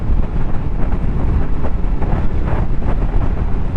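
Steady, loud wind buffeting a microphone while riding a Honda VFR800FE motorcycle, a dense low roar with no pauses throughout.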